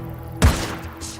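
A single sharp gunshot impact strikes the player in Days Gone, a sudden thudding crack that fades quickly into low background game noise.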